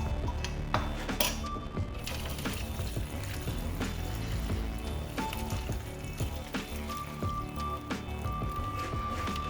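Infused vodka strained and poured, with wet squishing, dripping and trickling liquid sounds continuing throughout, alongside occasional clicks and faint background music.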